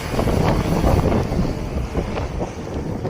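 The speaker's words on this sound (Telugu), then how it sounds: "మొత్తం ఫుల్గా హెవీ గాలి అయితే వేస్తుందండి, వర్షం కూడా వస్తుంది" Heavy wind blasts steadily past a motorbike rider on the road toward Meghalaya, a loud, dense roar of wind buffeting the microphone with no talk.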